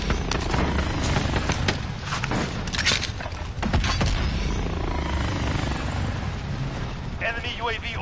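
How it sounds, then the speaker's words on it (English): Combat ambience in Call of Duty Warzone carries the rotor chop of an enemy attack helicopter among loud bursts, booms and mechanical clatter, with a voice speaking over the din. "Enemy attack chopper is in the AO."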